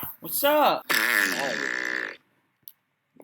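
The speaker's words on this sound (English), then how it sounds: "Yo, I heard that fart." A prank fart noise on a video chat: a drawn-out, buzzing blast lasting about a second, running right after a man's short spoken greeting, with quiet afterward.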